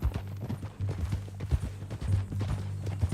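Horse hooves clip-clop at a steady walking pace in Red Dead Redemption 2, close and distinct, with a light rhythmic beat and no speech.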